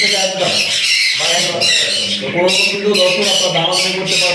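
Birds squawk and chatter continuously at close range, harsh repeated calls overlapping one another without pause.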